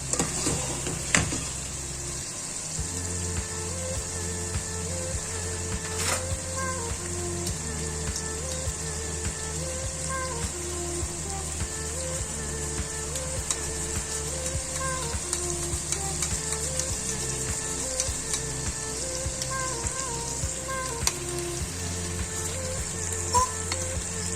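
Fried beef and okra sizzling in a pan as yogurt goes in, a steady close hiss and crackle of hot oil that continues throughout.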